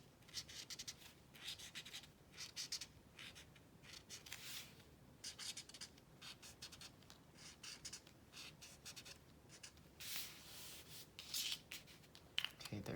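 A dark green pen drawing leaves on paper: quiet, close scratchy strokes in quick irregular bursts, rubbing back and forth, with no talk over them.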